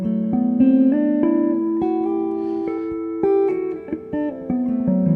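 Artificial harp harmonics are played on strings in a quick cascade of bright, bell-like notes, each ringing into the next in a steady stream, close and clear with no voices.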